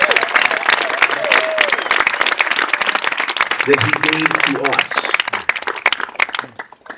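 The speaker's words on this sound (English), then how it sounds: "let's give a round of applause" Audience applause at a star re-dedication ceremony for a performer, a dense, steady wash of clapping that lasts most of the clip and fades at the end, with a speaking voice heard over it partway through.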